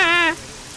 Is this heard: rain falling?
yes